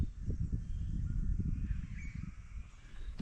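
Birds calling faintly in the distance over steady low outdoor rumble at a river creek, with no one speaking.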